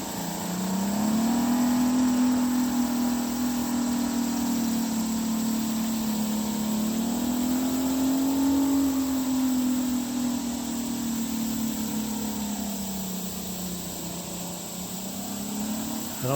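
A Yamaha engine freshly repaired with JB Weld runs steadily and loudly, its pitch rising and falling gently through mild revs with no other sounds over it.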